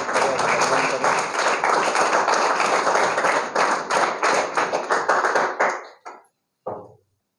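An audience at a higher secondary school claps steadily to welcome a speaker, dense sustained applause lasting about six seconds before thinning out, with a couple of final claps at the end.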